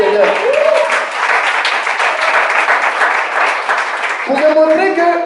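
A church congregation claps and cheers to acclaim the Lord, a dense, loud wave of applause that continues throughout, with a voice rising over it at the start and again near the end.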